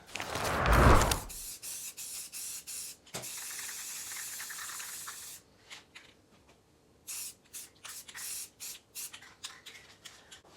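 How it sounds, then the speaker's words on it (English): Bursts of spray hissing from an aerosol paint can while painting part of a vintage Shasta camper's ice-box, a long steady spray followed by a series of short rapid puffs, with occasional rustling. "I'm going to spray this, and then I'll bring you back."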